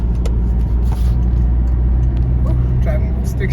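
A 2005 Volkswagen Passat wagon with the 1.8T engine and five-speed manual gearbox cruising along, its steady low engine and road rumble heard from inside the car throughout.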